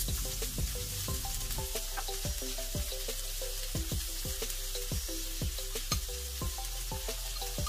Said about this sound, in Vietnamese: Các bạn cho thêm vào 20g bơ. Sau đó các bạn cho luôn cái phần tỏi bằm mà mình vừa mới chuẩn bị đấy.